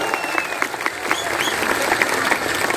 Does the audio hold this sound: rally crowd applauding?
yes